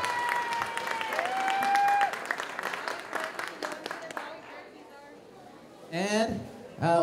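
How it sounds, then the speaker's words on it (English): Applause from the audience at an elementary school winter program, a dense burst of clapping for a class lasting about four seconds with some cheering, fading out before a voice speaks. "Another round of applause, please, for Ms. Gutierrez class."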